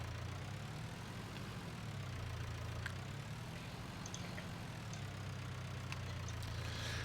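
A farm tractor engine idles steadily on a small farm in Chambly-sur-Meuse, France, giving a continuous low, rumbling hum at moderate distance with no talk.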